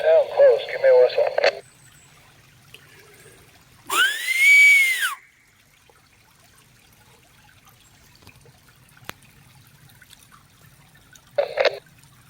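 A single loud human whistle rises and falls across an outdoor valley near a creek during a hunt, following a burst of talking, with quiet outdoor ambience and another short voice near the end.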